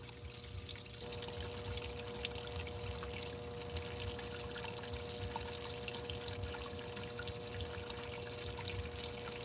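Water pours and trickles steadily inside a washing machine during its rinse cycle, a continuous soft gushing with a faint steady hum underneath.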